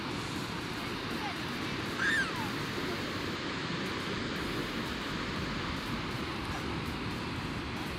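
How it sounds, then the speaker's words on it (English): Skogafoss waterfall in Iceland pours in a steady, broadband rushing roar that fills the scene continuously, heard from close by with a faint brief bird-like chirp over it. "This waterfall is awesome."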